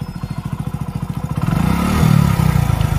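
A Hero Passion Pro motorcycle with over 100,000 km on it idles with a rapid, even putter up close, then the throttle opens and the engine revs up into a louder, rising drone.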